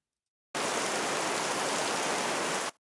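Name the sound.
heavy rain sound layer in Dune-inspired music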